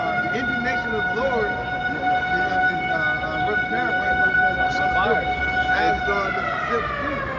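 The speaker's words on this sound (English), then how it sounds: "That's the sirens you gonna hear when I'm doing this." A wailing siren holds a steady high tone near and loud, with voices and street noise underneath.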